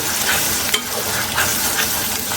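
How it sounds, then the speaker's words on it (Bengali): Onion paste fries in hot oil for an egg korma, a loud, continuous sizzle with occasional scrapes of stirring close by. "এই যে আমার সুন্দর মতন পেঁয়াজ বাটাটা আমি তেলের মধ্যে কিছুক্ষণ ভেজে নেব"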